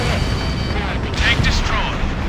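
A tank blows up under an air strike in Ace Combat Infinity, a heavy rumbling explosion with whooshing jet noise, under radio-style voices talking.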